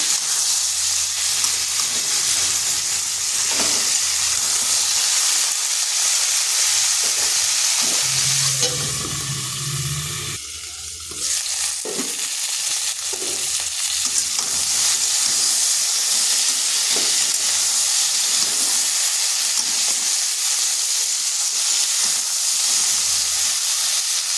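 Shukto vegetables sizzle steadily in a pan with a constant frying hiss, broken by scraping stirs as the lid is lifted and the mix is turned to keep it from sticking; no talking.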